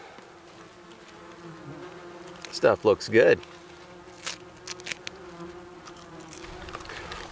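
Yellow jackets buzz around meat drying outdoors in the wilderness, a continuous steady insect drone with a few louder close fly-bys, while someone briefly speaks over it.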